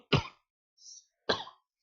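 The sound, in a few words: cough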